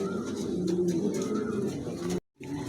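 A pigeon offered for sale coos in low, rolling throaty calls, close and fairly clear over a steady background, with a short silent break near the end.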